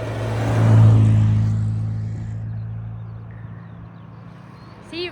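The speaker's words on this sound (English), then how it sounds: "There's obviously some kind of car event come today. And they're all coming past." Vintage Morris Minor cars heading to a car event drive past on a country road, one engine rumbling close and loud then fading away, followed by quieter road noise.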